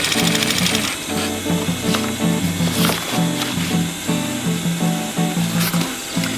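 Sewing machine stitching webbing onto a rollup bag, a fast mechanical whir in short bursts with brief pauses between runs, fairly close and clear, with light clicks and handling sounds.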